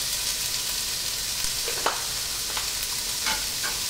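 Shrimp pancit bihon rice noodles being stirred in a frying pan, with steady close sizzling and a few scraping, clattering strokes of the spatula.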